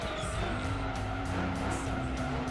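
A Lister Storm race car drones steadily in Gran Turismo 2, its engine a continuous loud, even roar with a faint tire hiss underneath.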